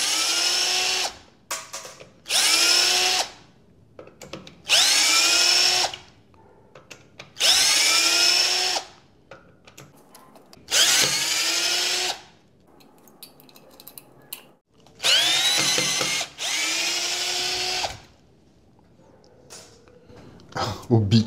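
A cheap 12V cordless drill/screwdriver set to torque 15 backs out screws in several loud whirring bursts, each lasting about one to two seconds, with pauses between them where a person talks.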